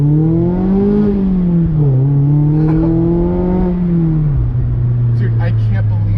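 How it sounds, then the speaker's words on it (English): An ND Mazda MX-5 Miata with no muffler revs up and settles in a loud, raspy exhaust drone that rises, dips and steps down in pitch, heard up close. "Dude, no muffler? It actually sounds so good."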